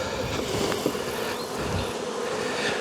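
Dense, steady buzzing of many honeybees inside an observation hive, a close continuous hum that fills the whole stretch with no voices over it.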